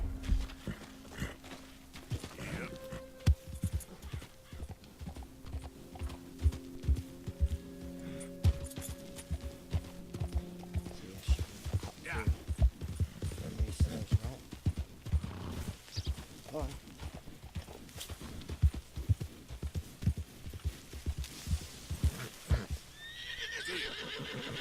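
Horse hooves clip-clopping steadily while riding in Red Dead Redemption 2, with rhythmic close hoofbeats, occasional neighs and snorts, and someone talking at times over the ride.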